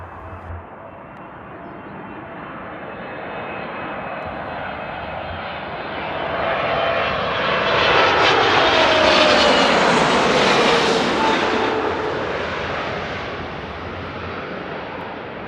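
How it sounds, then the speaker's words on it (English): A Boeing 777 airliner arriving to land at Frankfurt Airport roars overhead, its engine noise swelling loud and close as it passes, then fading into a long, rushing jet rumble. "Let's enjoy another 777."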